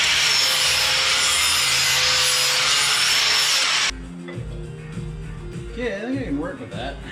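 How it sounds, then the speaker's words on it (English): A grinder works a metal engine pulley on a turbo boat engine swap build, giving a loud, steady, hissing grind for several seconds before cutting off, followed by quieter shop noise and some voices. "I'm grinding the pulley"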